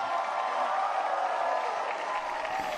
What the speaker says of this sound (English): One more big cheer for Pope Francis.